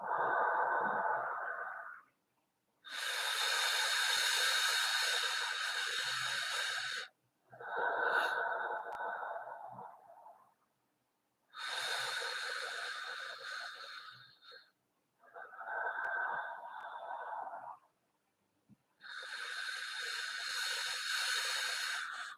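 Slow guided breathing in a Wim Hof style relaxation exercise for falling asleep: long airy exhalations voiced like a soft "ah" alternate with quieter inhalations, each lasting a few seconds, close and alone with silent gaps between.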